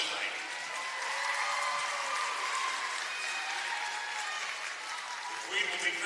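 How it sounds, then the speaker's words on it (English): Crowd applause fills a gym during court-warming festivities at a girls basketball game between Joplin and Republic, a steady sustained clapping that holds loud throughout with a slight swell near the end. "Let's give our 2021 Court Women Court a round of applause tonight."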